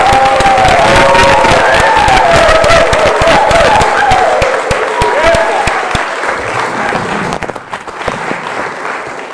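An audience at a talk event breaks into loud, dense applause with some cheering. The clapping fades gradually over its last few seconds, and a voice is heard over it.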